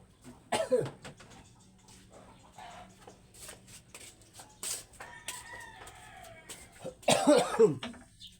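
Two harsh coughing fits, close to the mic, separated by quieter background noise and faint bird-like calls.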